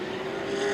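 Late model sportsman race cars roar around the Anderson Speedway oval during a 2014 CRA season-opener restart, a loud, continuous high engine drone that climbs slightly in pitch.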